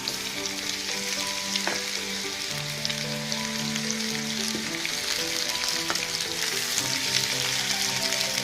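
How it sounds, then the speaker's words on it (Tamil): Mango pieces frying with mustard seeds and urad dal in hot oil, giving a dense, steady sizzle and crackle close by that runs without pause. "நல்லா ஃப்ரை பண்ணிக்கோங்க."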